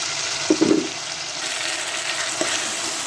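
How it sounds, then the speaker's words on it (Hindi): Chicken and cabbage fry with yogurt in a pan, a soft steady sizzle broken by a few short stirring scrapes and bubbling bursts near the start. "इसको हम दही के साथ थोड़ा भूनेंगे"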